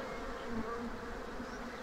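Honey bees buzz at a Hungarian apiary, a soft, steady hum of many insects with no talking.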